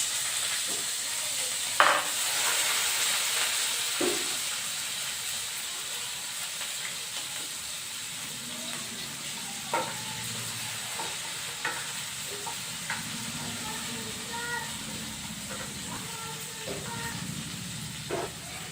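Cumin seeds and sliced onions fry in hot oil with a steady, moderate sizzle, broken by occasional clinks and scrapes of stirring across the pan, and no one talks.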